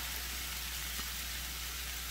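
Garlic frying in a pan for an egg frittata gives a steady, even sizzle that hisses without pause throughout, with no voices.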